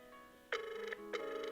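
A telephone on a Panasonic KX-NS business phone system rings after a redial from a mobile, two short electronic trills heard faintly and alone.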